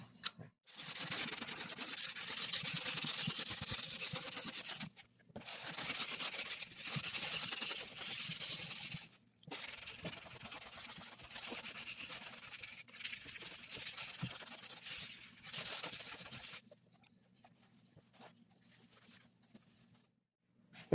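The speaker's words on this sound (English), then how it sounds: "we're going to take sandpaper. We're going to work this down." Sandpaper scrubs steadily by hand across a guide-coated car body panel in long continuous bursts, a hissy rasping that pauses briefly twice and then stops, leaving near silence at the end.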